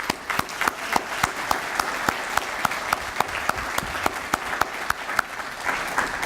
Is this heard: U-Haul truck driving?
no